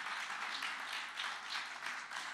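An audience claps in a sustained round of applause welcoming a band at a concert event, a dense patter of many hands swelling slightly and fading, heard from a distance.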